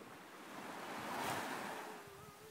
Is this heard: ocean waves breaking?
yes